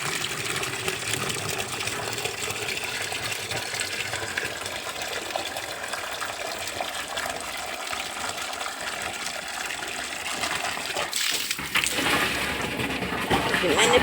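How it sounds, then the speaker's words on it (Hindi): Water gushes steadily from a pipe into a drum, a continuous splashing rush that stays fairly loud throughout, with someone talking over it in places. "और इस ड्राम को भर देती हूँ।"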